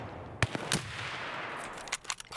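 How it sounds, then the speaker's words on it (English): Gunshots crack in an online shooter, a handful of sharp reports spaced irregularly, some with quick follow-up shots, ringing out over a steady background hiss. "Now these shots are getting closer"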